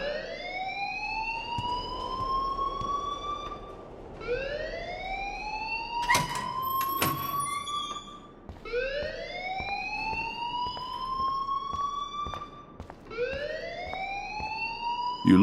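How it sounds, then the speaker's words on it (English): An electronic alarm in the video game Life Is Strange wails in repeated rising sweeps, four in a row at steady intervals, with a sharp clatter partway through and a sudden burst at the end. "please turn off that alarm since that's your job"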